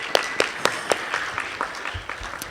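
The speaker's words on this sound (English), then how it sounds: "Now can we really get a round of applause?" Guests at a Passover Seder clapping for a setup coordinator, a close, fairly loud round of applause with distinct sharp claps standing out that thins and fades after a couple of seconds.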